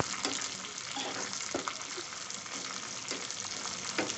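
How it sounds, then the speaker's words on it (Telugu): Dried red chillies fry in oil for rasam, giving a steady, close sizzle with small crackles and pops throughout, no voices over it. "అప్పటి వరకు వీటిని బాగా ఫ్రై చేసుకోవాలి."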